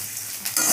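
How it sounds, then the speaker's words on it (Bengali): Vermicelli fries in hot ghee with a bay leaf in a pan, a loud continuous sizzle that swells sharply as it is stirred. "সিমিটা দিয়ে ভাজছি"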